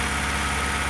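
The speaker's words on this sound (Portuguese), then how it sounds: "Eu tô com o motor ligado aqui galera" A car engine on a workshop floor idles steadily and close by, with a continuous low rumble and even vibration. The engine is suspected of a worn connecting rod bearing with some play. No talk is heard.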